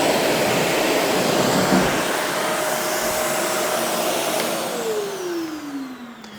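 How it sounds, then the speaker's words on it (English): Shark Navigator Lift-Away Deluxe vacuum cleaner running on a hardwood floor with suction on and brush roll off, a loud steady whooshing whine whose pitch drops as it winds down near the end. "if we wanted to vacuum a hard floor, then we'll put it on position 1, tilt this back. It's still on and using suction"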